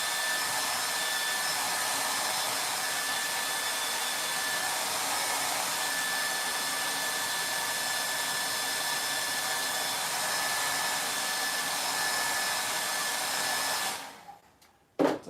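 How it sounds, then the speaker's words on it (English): A hair dryer blows in a steady, loud roar that runs continuously for about fourteen seconds, then cuts off abruptly. "here comes the blow dryer sound."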